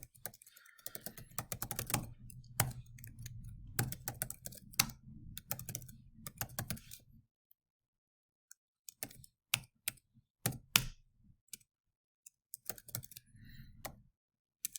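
Typing Java code on a computer keyboard in the NetBeans editor: close, crisp key clicks in quick bursts, with pauses and scattered single taps between runs and a low background hum at times.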